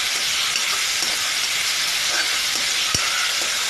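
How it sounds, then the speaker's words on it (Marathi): Grated tomato hitting hot oil with browned onions in a pan, a steady close sizzle and hiss running throughout with a faint tap near the end. "आता आपण टोमॅटो टाकणार आहोत किसलेला."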